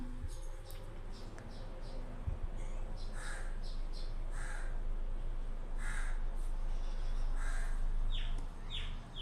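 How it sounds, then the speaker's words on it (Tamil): Several crows caw repeatedly outside, heard indoors through a closed window, their harsh calls coming in short bursts over a steady background hum. "இந்த காக்கா நாய் என்ன தான் ஜன்னலை க்ளோஸ் பண்ணி வச்சு பண்ணாலும் வந்துட்டு அவங்களோட சத்தம்லாம் கேட்க தான் செய்யுது"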